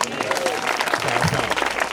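An audience at a school event applauding, dense steady clapping throughout with a few voices calling out over it.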